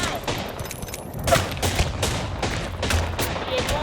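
Rapid bursts of automatic gunfire from an Apex Legends match, dense overlapping volleys and single shots close and loud throughout, with a voice speaking briefly amid the firing.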